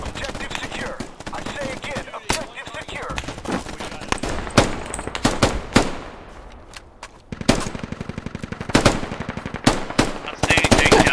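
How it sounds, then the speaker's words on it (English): Rifle fire in the military shooter Squad, set in an arctic battle: single sharp reports crack out irregularly, some in quick pairs, loud and close over a busy layer of distant gunfire and battlefield rumble. "We're just single tap firing at like 600 meters."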